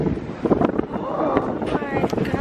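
Wind buffets a microphone on a cold New York City street, gusting in uneven rumbling bursts under faint voices and street noise.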